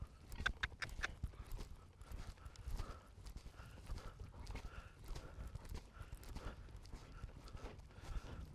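A horse trots over show-jumping poles in a cavaletti exercise, its hooves beating a steady, regular clip-clop rhythm at moderate distance with no talk over it.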